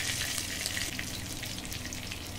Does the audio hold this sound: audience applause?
no